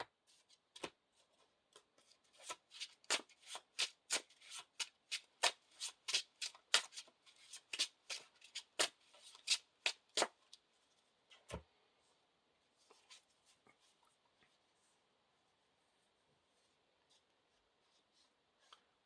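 Playing cards for a Lord of the Rings card game are handled and searched through, giving a quick run of crisp snaps and flicks, then scattered softer slides and taps fading into near silence.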